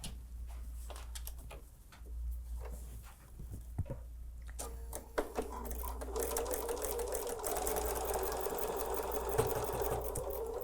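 A home sewing machine stitching Christmas quilt blocks starts after a few quiet taps and handling sounds, then runs in a steady, close, continuous whir.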